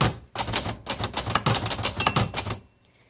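Typing on a 1962 Hermes 3000 roundtop manual typewriter: a quick, close run of crisp key strikes with ringing clacks, about a dozen hits in steady rhythm before stopping.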